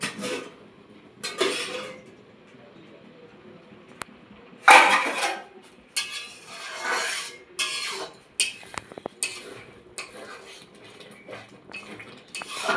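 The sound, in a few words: lid lifted off pot of cooking dal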